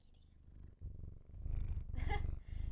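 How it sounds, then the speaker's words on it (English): Close, rhythmic purring from a cat, a low pulsing rumble that grows louder, with a brief brushing scrape against the microphone. "Can you hear him purring this time?"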